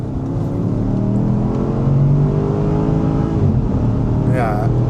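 A Porsche Cayenne Turbo 958.1 accelerating onto a motorway, with a strong, close engine roar rising in pitch through the gears and a brief dip at a shift, heard from inside the cabin.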